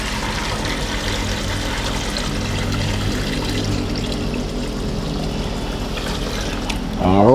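Water runs steadily into a hermit crab enclosure made to look like a beach, a continuous pouring and trickling wash that holds the whole time and grows louder near the end, with no one speaking over it.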